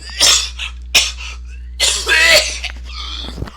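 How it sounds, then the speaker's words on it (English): A few harsh coughs and throat-clearing bursts, fairly loud and close, over a steady low hum. "So I have to cough."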